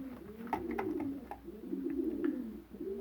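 Young domestic pigeons coo in soft, rolling, low phrases, two long throaty calls close by with brief gaps, over faint background chirps and no talking.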